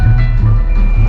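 A car radio plays inside a white 1988 Volvo 780, its music loud and close with a repeating low pulse over a steady tonal background, no talking over it.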